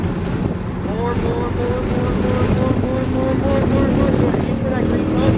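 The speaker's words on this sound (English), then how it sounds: "look for that second cone, and now begin adding throttle" Race car engine on the track at New Jersey Motorsports Park, revving up in rising sweeps as the throttle opens, close and loud under wind rush.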